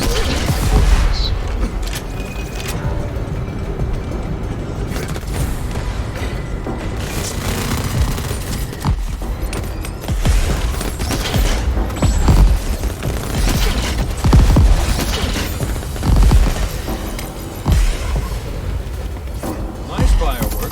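Repeated booming explosions and bursts of gunfire from the Crackdown 3 video game, loud and dense throughout, mixed with mechanical clatter and game effects.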